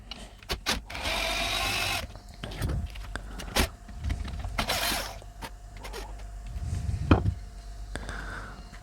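A cordless drill spins a car's rear wheel hub, clamped on a bolt, so the brake disc turns for resurfacing on the vehicle; near mechanical whirring bursts come with creaks, clicks and clunks, running steadily then stopping and restarting.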